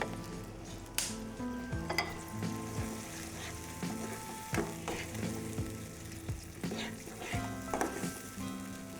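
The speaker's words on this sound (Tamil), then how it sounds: "இது நல்லா கொதிக்கட்டும்." Yogurt gravy with a little water added cooks in a pot for capsicum biryani, giving a steady sizzle and bubble. Occasional stirring clatters punctuate it at a moderate level.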